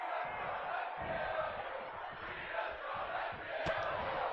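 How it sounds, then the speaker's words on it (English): A virtual arena crowd chants in WWE 2K24 during a wrestling match, a steady, rhythmic roar of many voices at moderate distance, with a brief sharp impact near the end. "The crowd chanting, "Rhea's gonna kill you,""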